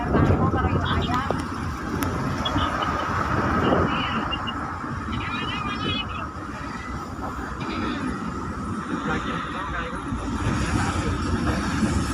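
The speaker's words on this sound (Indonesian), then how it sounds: "Oh, itu kereta api ini lewat tuh." A train rumbles past at a distance along a road in Muara Enim, Sumatra, a long low rolling noise that swells and fades while people talk nearby.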